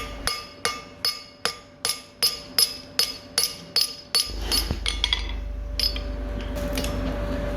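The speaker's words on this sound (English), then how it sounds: "So I set down the rivet on the one side" Steady hammer blows on a rivet while forging blacksmith tongs ring out sharply, about a dozen metallic strikes in an even rhythm, followed by a deep rumble with a few lighter taps and clinks.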